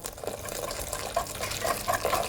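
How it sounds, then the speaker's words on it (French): Boiling milk poured onto eggs in a bowl while being stirred constantly, a steady near pouring and liquid swirl with faint clinks, for a custard of eggs and milk. "le lait bouillant, on le verse sur les œufs, tout en remuant constamment"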